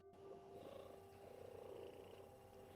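Cat purring close up, a soft continuous rumble with a rhythmic pulsing throb that holds steady throughout, quiet and alone with no talk.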